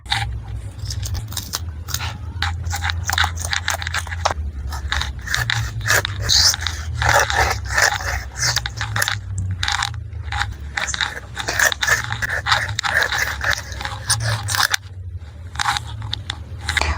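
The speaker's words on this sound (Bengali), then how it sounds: "মাছটি কেটে নেবো এবারে" A large hilsa fish is cut with a knife, producing a dense run of close crunching, scraping cuts through scales and bone, with irregular rhythm and brief pauses over a low background hum.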